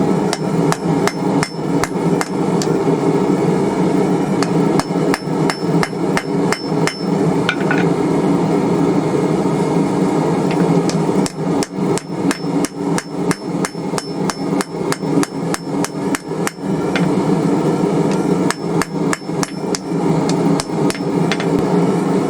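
Ringing hammer blows on hot steel while forging a chisel, loud and close, falling in rapid bursts of rhythmic strikes separated by short pauses.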